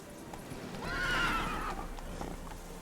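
Roach, the horse in The Witcher 3, whinnies loudly once in the middle of running hoofbeats, with a steady patter of hooves behind it at moderate distance.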